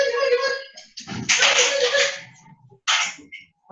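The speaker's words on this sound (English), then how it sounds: "I had to let the dogs out or they go crazy" Dogs being let out of a house whimper and whine in high, drawn-out cries mixed with short barks and yips, close by, with a person's voice mixed in among them.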